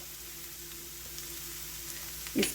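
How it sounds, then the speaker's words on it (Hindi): Vegetables stir-frying over a medium flame for Indian-style masala macaroni, a steady soft sizzle with a brief louder stir near the end. "इस तरह से चलाते हुए 2 मिनट इसे अच्छे से मैं फ्राई करूँगी मीडियम फ्लेम पर"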